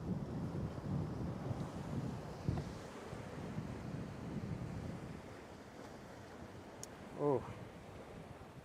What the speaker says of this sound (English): Yeah, the wind is picking up right at the wrong time.